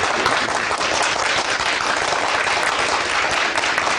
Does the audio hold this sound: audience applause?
yes